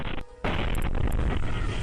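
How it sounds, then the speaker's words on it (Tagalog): Loud firecracker blasts set off in a residential neighborhood of Zamboanga City, a dense continuous roar of bursts with a brief dip early on, close and overwhelming. "Malakas na pagsabog ng mga paputok na animoy may lindol"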